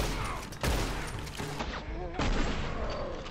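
Rapid gunfire from the Western video game Red Dead Online crackles in dense, continuous bursts, loud and close, with a few sharper shots standing out over the steady din.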